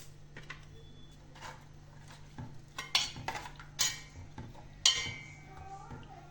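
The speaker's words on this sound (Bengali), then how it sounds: "তারপর একটু নেড়ে চেড়ে এটাকে গুলিয়ে নেব" Mustard paste with turmeric and salt is stirred in a bowl, giving quiet scraping and a few sharp spoon clinks against the sides over a low steady hum, with no one talking.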